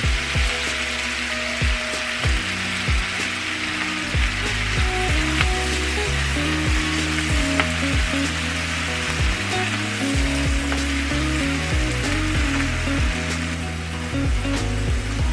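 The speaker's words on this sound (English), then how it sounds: "you want to add about 3 cups of fresh spinach" Fresh spinach sizzles and fries steadily in a hot pan while making Tuscan chicken, a constant, fairly loud crackle heard alone, with no talking.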